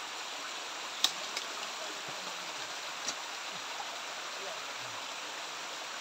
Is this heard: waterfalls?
yes